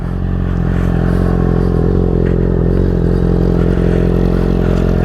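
A 2020 Yamaha R6 motorcycle fitted with a LeoVince Factory S exhaust idles and revs with a deep, steady rumble, loud and close, holding a constant throaty drone without voices.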